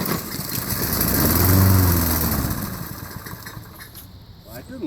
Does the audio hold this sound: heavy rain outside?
no